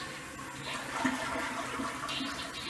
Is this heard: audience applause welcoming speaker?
no